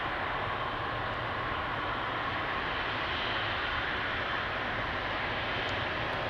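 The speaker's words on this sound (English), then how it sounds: "Turkish flight 1952 to Istanbul" A Turkish Airlines jet on flight 1952 to Istanbul at Amsterdam Schiphol gives off a steady, distant broadband engine rumble and hiss, faint and unbroken throughout.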